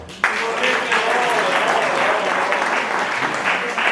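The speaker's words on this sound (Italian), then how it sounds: "facciamo un applauso" A conference audience at a Roccavaldina event about the Ruccaloru cherry tomato breaks into applause, many hands clapping together in a sustained, fairly loud ovation after a sudden start.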